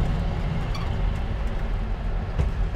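A 1950 Ford F1 pickup truck rolls down the road in second gear, its steady low engine and road rumble continuous and close, with no talking.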